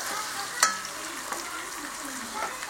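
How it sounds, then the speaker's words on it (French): Peeled, chopped onions and garlic sauté in a pan with a steady broadband sizzle, punctuated by a few sharp utensil clicks and stirring scrapes close by, with no talking. "Je mets les oignons et l'ail préalablement épluchés et coupés. Voilà, je fais revenir le tout."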